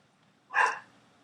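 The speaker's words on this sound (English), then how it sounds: "that's getting the dog barking again, sadly" A single short dog bark, distant and fairly faint, heard alone against a quiet room.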